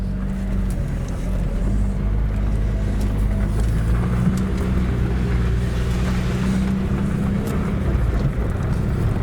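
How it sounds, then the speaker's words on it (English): A Saab 9000 rolls along a gravel road, a steady loud engine and tyre rumble with continuous crunching road noise throughout and no pauses. "Since this is a gravel road, it's very easy to engage the ABS here"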